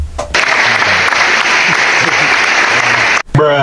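Applause for an opposing player fills the clip, a dense steady wash of clapping that stops abruptly near the end before a voice begins.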